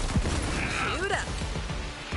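Gunfire crackles in the video game Borderlands 3, scattered shots and bursts beneath someone talking over the action.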